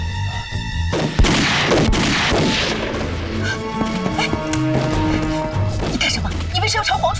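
Gunfire in a Chinese wartime spy TV drama: sharp shots and bursts crack out near and loud, mixed with shouting voices and scene noise.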